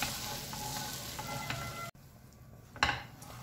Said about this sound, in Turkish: Şimdi güzel bir şekilde sadece bir tur karıştıralım.